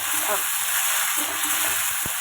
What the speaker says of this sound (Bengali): এখানে বেগুন ভেজে রেখেছি ভেন্ডি ভাজা হচ্ছে